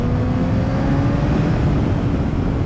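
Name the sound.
Honda CBR600RR motorcycle engine revving at full throttle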